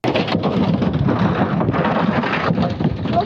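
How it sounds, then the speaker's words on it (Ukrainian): Heavy downpour pounding a town street in Boryslav, Lviv region, during a storm, a dense steady roar of rain with low thunder rumbling through, loud and continuous with no voices. "а це проливний дощ у місті Борислав"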